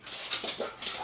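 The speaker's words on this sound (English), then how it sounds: "She's a Portuguese water dog lab mix." A Portuguese water dog and Labrador mix named Beyonce gives a few short, high whimpering yips close by, with no talking.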